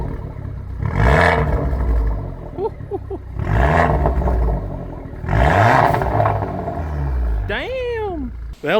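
Exhaust of an Abarth 595 with an induction kit, heard from the rear: three loud revs swell and fall back to idle, with crackles in between and a brief voice near the end.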